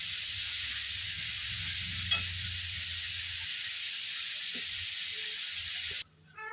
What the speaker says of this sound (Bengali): এই যে পেঁয়াজটা আমার ভাজা হয়ে গেছে